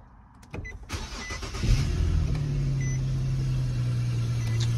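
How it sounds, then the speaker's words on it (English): A stock Infiniti G37 engine cranks and fires up after a few clicks, then settles into a loud, steady exhaust drone that holds through to the end, close by and with no talking. "the exhaust does sound pretty good for stock. It's pretty loud for a stock engine"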